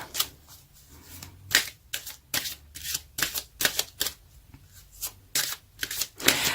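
A deck of tarot cards is shuffled close up in a quick series of crisp riffling snaps and flicks, each burst short and sharp, repeating steadily with no talk.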